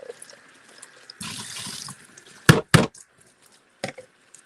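Hot water runs from a tap into a dedicated fish-room sink in a steady rushing burst of about a second, followed by a few sharp knocks and clatters nearby.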